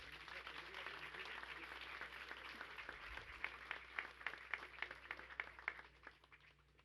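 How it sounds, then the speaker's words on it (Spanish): A crowd at a Colombian presidential ceremony applauds, a dense wash of hand claps that stays steady, then thins into a few distinct louder claps before fading; a voice carries faintly underneath. "Un fuerte aplauso para ellos."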